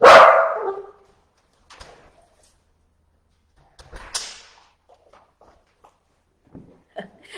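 A dog barks loudly at the arrival of a dog walker: one sharp close bark at the start, then scattered quieter barks, footsteps and small household knocks with long gaps of near silence between them.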